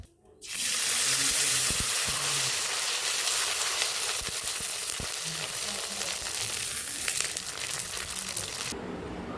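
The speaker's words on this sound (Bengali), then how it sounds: "তেলটা গরম করতে দিয়ে দিয়েছি তেলটা গরম হয়ে গেলে আমি পাঁপড়টা ভেজে নেব" Sabudana papad frying in hot oil, a loud, steady, close sizzle that starts abruptly and fills the whole stretch with dense crackling, without speech.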